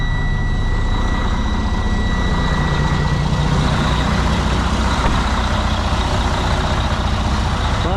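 A roll-off truck engine runs with its exhaust disconnected, a loud, steady, close rumble with raw low-end roar that holds unbroken throughout.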